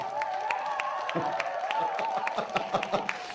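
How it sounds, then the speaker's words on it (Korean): A concert crowd roars and claps at a Korean show of trot classics, a dense, steady wash of cheering voices with scattered sharp handclaps running throughout, fairly loud and close. "함성이 꽉 찼어요"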